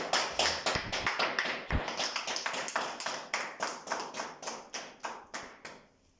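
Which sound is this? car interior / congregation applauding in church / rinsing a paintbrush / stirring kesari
congregation applauding in church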